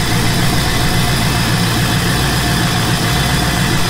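A Nissan 300ZX with a swapped LS V8 idles steadily on its first startup, a loud, close, continuous engine drone with no pauses and no talking over it.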